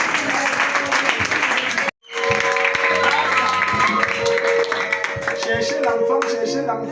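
A church congregation applauding during a worship service, sustained loud clapping from a crowd with a short break, voices mixed in.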